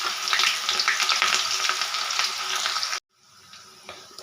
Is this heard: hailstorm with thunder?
no